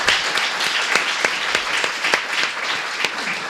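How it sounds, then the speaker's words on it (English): An audience at an event on healing and addressing gun violence gives a round of applause for Tina Chéry, dense steady clapping from a crowd, moderately loud throughout. "you gotta give her another round of applause"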